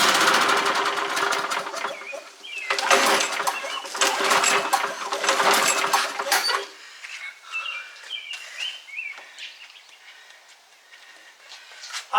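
Pull-start attempts on a leaking Toro or Poulan lawn mower engine, with bursts of loud rasping broadband noise at a close distance that stop after about seven seconds, leaving quieter chirps and ambient sounds.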